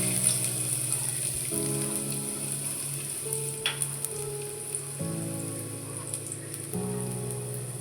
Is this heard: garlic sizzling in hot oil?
yes